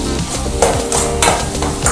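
Ginger sautés in a pan, a loud, close, continuous sizzle with rhythmic scraping strokes as it is stirred.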